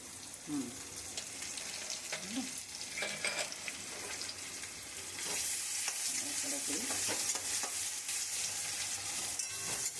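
Raw onion and tomato stirred and fried in a pan, close sizzling broken by scraping spatula strokes, the frying growing louder and denser partway through, with no talk.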